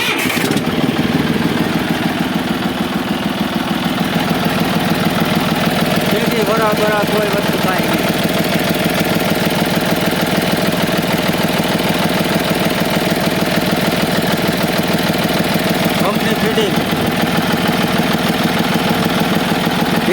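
A 2008-model John Deere tractor's diesel engine runs at a loud, steady, rhythmic idle close by, with someone talking over it.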